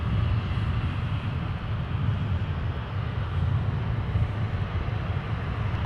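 A jet airplane taking off from runway 17 at Minneapolis–Saint Paul airport, a steady, loud low-frequency engine roar that holds constant throughout without a break.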